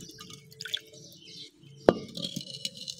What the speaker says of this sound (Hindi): अभी हम पानी चेंज करने लगे हैं